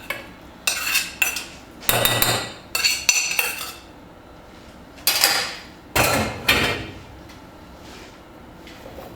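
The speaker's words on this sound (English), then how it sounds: "all I'm going to do now is just scoop that bean puree / bean mash into a bowl ready for serving up" Spoon scraping and clinking as bean mash is scooped into a serving bowl for spicy bean and chorizo tacos, a series of loud, close knocks and scrapes spread across several seconds with gaps between, no talk.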